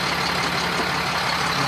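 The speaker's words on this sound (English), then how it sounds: "Listen to the engine." A 2007 Sterling L7500 garbage truck's engine idles steadily nearby, a continuous low rumble with broadband hiss holding an even level throughout, with no talking.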